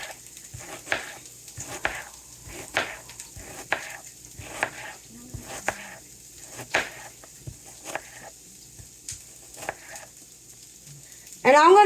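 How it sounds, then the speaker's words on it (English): Onions sauteing in vegetable oil in a frying pan over low heat, a soft steady sizzle with repeated stirring scrapes and taps of a utensil, fairly quiet and close, ending in a brief louder clatter. "I'm going to saute the onions, and I'm going to saute the mushrooms with the spinach"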